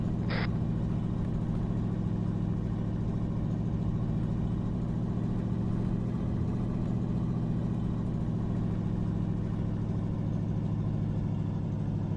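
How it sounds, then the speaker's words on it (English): Truck engine rumbling in the Arma 3 military game on a snowy map, a steady, low droning motor that holds at an even level throughout with no talk over it. "Friendly truck coming from the north."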